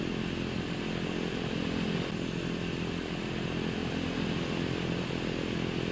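A piston aircraft engine holds a steady run-up near 2000 RPM in a Bonanza or Baron flight simulator, a loud unbroken drone with no speech.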